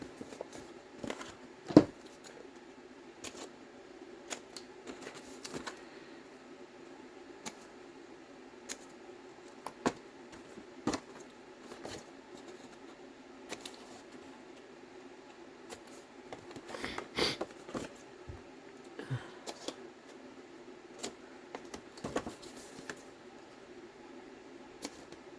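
Scissors snip through paper while carrot shapes are cut out for a handmade Victorian folio, soft irregular clicks and rustles spread across a quiet room, close but faint, with no talking.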